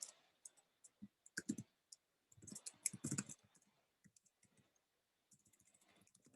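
Rapid clattering keystrokes on a computer keyboard in bursts of typing with short pauses, close and fairly quiet, during a programming lesson on list comprehensions.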